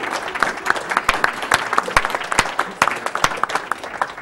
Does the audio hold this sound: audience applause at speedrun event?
yes